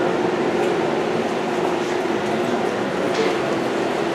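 A two-axis CNC lathe runs in a tool workshop, turning a part, giving off a steady, loud whirring drone with a constant mechanical hum and no clear breaks.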